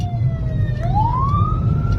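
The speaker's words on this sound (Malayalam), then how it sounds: "ആംബുലൻസ് വഴിമാറി കൊടുക്കണം." An ambulance siren sounds on a road in Kerala, passing a Coimbatore superfast bus in traffic, its rising wail cutting clearly above steady engine and traffic rumble.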